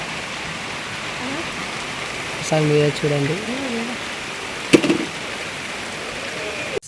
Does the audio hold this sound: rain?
yes